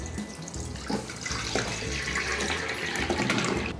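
Soaking water pours off cut potatoes as they are drained, giving a close, continuous splashing rush of water that holds steady for several seconds.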